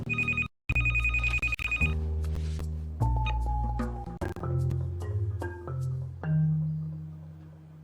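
A telephone in a movie rings loudly with repeated electronic bell trills, then a string of clinking, tonal handling sounds follows as the call continues, with no speech.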